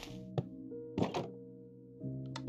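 Soft, hollow wooden clicks from cherry wood buttons being pressed in Minecraft, a few separate taps spaced over a couple of seconds against a quiet background of sustained game tones.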